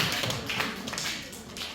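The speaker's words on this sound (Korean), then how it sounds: "우리 그 세 친구들을 위해서 박수 한번 쳐줄까요?" A group of students at a sermon gathering claps for three classmates, a brief dense burst of applause close by with no pause.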